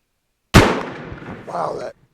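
A Werndl 1867/77 rifle fires a single loud, close shot while fire forming cases, a sharp blast with a short decaying tail and a brief rattling echo afterward.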